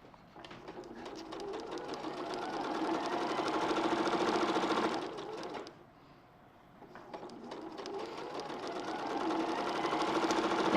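A sewing machine stitches quilt pieces with a quarter-inch foot in two bursts of rapid, even whirring, with a short pause between them; the sound is close and fairly quiet, with no talking.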